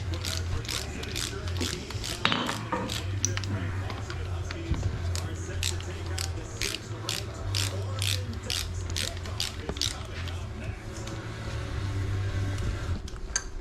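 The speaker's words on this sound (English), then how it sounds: "Torque wrench up to 74 foot-pounds would be what we're gonna go for." Torque wrench ratcheting as bolts are tightened to 74 foot-pounds on a 25-year-old VR6 engine, a steady run of rapid clicks throughout over a low hum, with people talking in the background.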